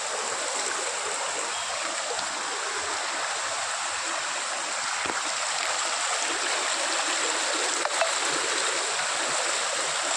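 Steady rushing of flowing stream water, continuous and fairly loud throughout, with no voices.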